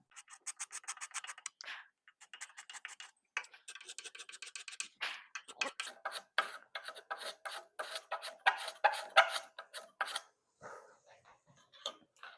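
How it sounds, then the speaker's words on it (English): A sharp card scraper scrapes a wooden exposed tenon on a handmade rocking chair in quick, rhythmic strokes, close and crisp, with short pauses between bursts. "It's just a matter of me making sure that this card scraper is sharp and I don't bust out the edges"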